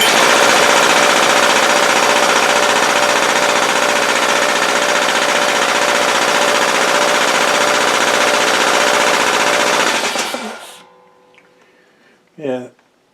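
An air compressor runs loud and close with its tank open, a dense rattling roar from a machine shaking off balance, holding steady for about ten seconds before winding down, followed by a brief faint knock.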